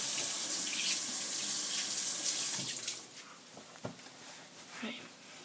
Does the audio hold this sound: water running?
yes